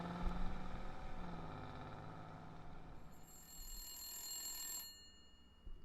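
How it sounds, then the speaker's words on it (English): A corded telephone rings in the Blacksad detective video game, a bright electronic ring rising over a steady low background hum and then cutting off. "What is that, a corded phone?"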